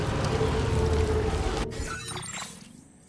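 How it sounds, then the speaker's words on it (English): Eerie ambient sound in Death Stranding 2 as the player nears BT activity, a loud crackling, shattering wash that abruptly thins and fades out over about three seconds. "That's the sound of us kind of approaching BT activity."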